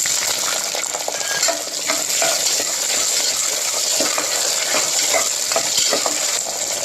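Small onions with fenugreek and curry leaves sautéing in hot oil for a fish curry, a steady dense sizzle with occasional stirring scrapes, close and continuous without talk.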